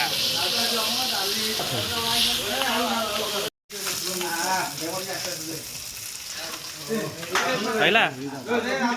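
Fish frying in a pan, with continuous sizzle and crackle throughout, close and fairly loud; voices and tonal background sound run over it, with a brief dropout partway.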